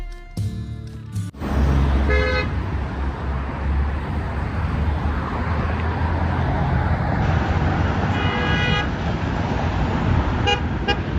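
Road traffic rumbles steadily with passing cars, punctuated by several short car-horn toots, some repeated in quick bursts, heard close and fairly loud.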